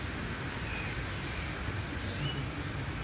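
Rain falls in a soft, steady hiss with no pauses, fairly faint and continuous, and no voices can be heard.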